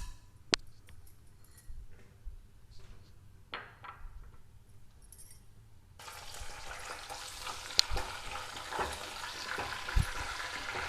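Tempering spices hitting hot oil in a pan while making pepper egg fry, a quiet stretch with a few clicks and taps giving way to a soft, steady sizzle with occasional pops.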